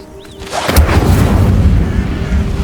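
Incendio fire spell cast in the Hogwarts Legacy video game, a sudden loud whooshing blast that swells into a sustained roaring rumble of flames.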